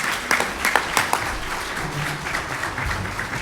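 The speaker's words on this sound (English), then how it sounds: "How about a nice round of applause for all this folks?" An audience at a Central Florida rail event claps in a short burst, starting with a few sharp, distinct claps before settling into steady applause that carries through to the end.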